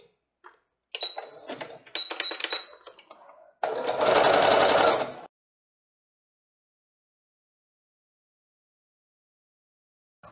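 A sewing machine stitches a dish towel, running in short rapid bursts, then a longer louder run, before falling silent; close and clear with no talk.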